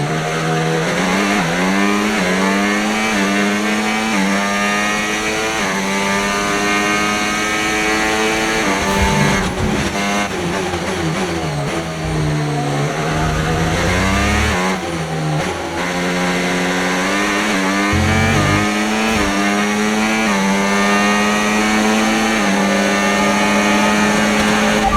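F1 race cars in the F1 25 video game scream loudly and continuously, the engine whine climbing and dropping sharply through repeated gear shifts and brief lifts.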